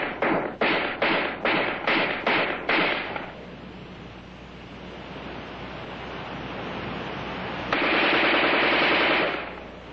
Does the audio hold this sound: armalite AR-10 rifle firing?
yes